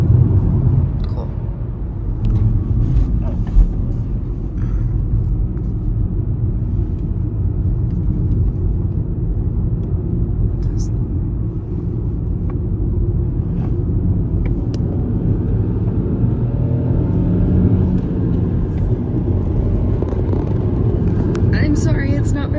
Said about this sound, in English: it's hard to be very steady in a car